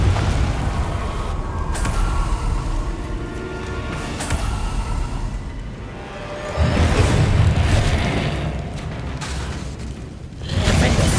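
The Confringo blasting spell explodes during a fight against Inferi in Hogwarts Legacy, with deep booming blasts rising sharply at two points over a continuous rumbling battle background.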